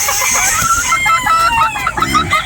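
Boston Sweater gamefowl breeder roosters crowing in a farm pen, several overlapping close crows and clucks in quick succession.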